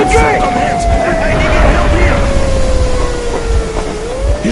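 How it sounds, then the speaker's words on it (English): A train rolls along rails in the video game Metro Exodus, a loud rumbling run with a long, slowly falling whine over it. Shouting voices break in briefly. "You're going to ram the train!"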